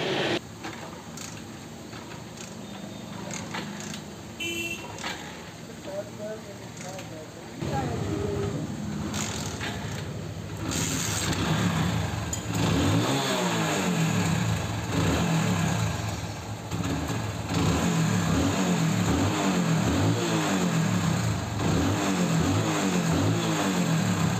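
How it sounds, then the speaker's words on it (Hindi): A Hero iSmart motorcycle engine starts and idles, then revs repeatedly in rising and falling bursts, loud and close. "अब इसकी बाइक को स्टार्ट करके आप लोगों को दिखाते हैं।"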